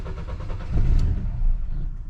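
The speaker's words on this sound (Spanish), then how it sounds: "Arranca, pero está batallando para mantenerse prendido." A 2022 Nissan Sentra engine cranks and catches, then runs roughly with uneven surges as it struggles to keep going, loud and close with no voices.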